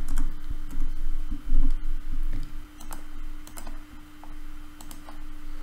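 Fingers type on a computer keyboard at close range, quick irregular clacking keystrokes in short bursts with brief pauses, over a faint steady electrical hum and with no talk.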